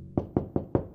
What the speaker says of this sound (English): It's the sound of a new puppy corn hatching.